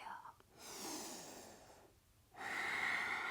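A slow, breathy exhale during yoga practice, soft and close, followed by a pause and then another airy breath, with quiet voiced sounds alongside.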